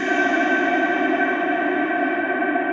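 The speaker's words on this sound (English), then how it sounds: "So I'm going to put a reverb on here and then turn the decay time all the way up," A bright, sustained wash of reverb with the decay time turned all the way up hangs steadily, smooth and wide, with the treble slowly dimming as the long tail rings on.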